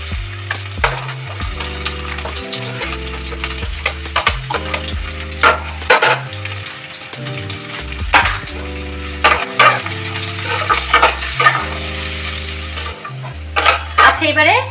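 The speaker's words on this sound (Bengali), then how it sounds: "এবারে আমি একে একে সব ক্যাপসিকাম গুলো দিতে থাকবো।" Capsicum sizzles in a hot pan with onion and garlic for home-style pasta, with steady frying hiss and scattered clinks of stirring, partly masked by prominent background music.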